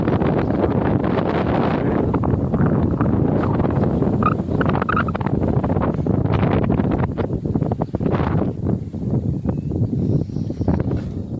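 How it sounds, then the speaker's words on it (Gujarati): Strong wind buffets the microphone in a loud, continuous roar with gusting surges throughout, no voices present. "પવન બહુ છે ભાઈ વાડી."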